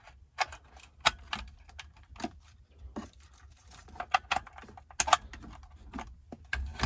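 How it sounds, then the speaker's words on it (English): Plastic retaining clips being pulled from the back of a 2003–2006 Chevy/GMC AC heater control module, heard as scattered sharp clicks and light plastic taps at close range, no talking. "Pull those two clips out and put it in our new one."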